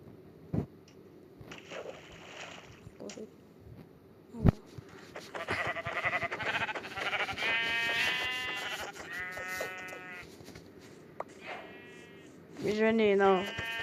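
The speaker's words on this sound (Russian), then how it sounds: "О, овечки, бараны, барашки, козы." Sheep bleating in the Minecraft video game, several wavering bleats in a row, then a louder bleat near the end, mixed with game clicks and a voice talking.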